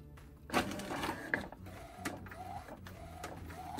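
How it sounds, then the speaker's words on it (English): A DTF printer fed from a roll feeder runs through a print pass, giving mechanical whirring, clicks and a few sharper clunks as the carriage moves, close by and steady, with no talk. "the printer start to move"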